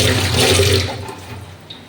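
Tap water runs steadily while fresh ginger is rinsed under it in a home kitchen, a loud continuous splashing rush that tapers off slightly toward the end.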